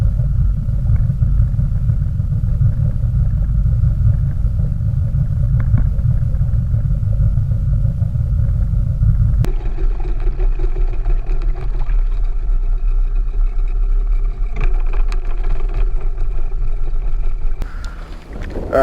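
Motorboat crossing Mosquito Lagoon on a windy day, a loud, steady engine drone with heavy low rumble and wind buffeting throughout, the tone shifting partway as the hull runs on, no talking.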